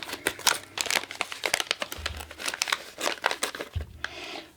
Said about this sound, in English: Nice little resealable pouch.